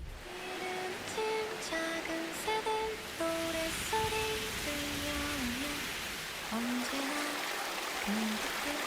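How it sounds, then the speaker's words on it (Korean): A babbling stream under cool tree shade gives a steady, soft rushing hiss throughout, with birds singing clearly over the water. "돌돌거리는 물소리에 시원한 나무 그늘."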